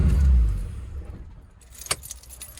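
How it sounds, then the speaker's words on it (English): A Ford Barra engine with 186,000 on the clock is shut off up close. The engine rumble fades away within about a second, keys jangle, and a sharp click follows in near silence. "I'm going to shut her off for now."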